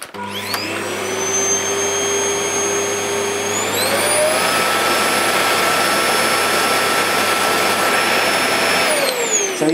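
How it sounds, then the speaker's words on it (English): A Hoover Purepower Greenray TGP1410 cylinder vacuum cleaner starts up with a whirring whine and rises in pitch midway as the power increases. It runs steadily and loudly, then shuts off near the end. "just show you the machine operating"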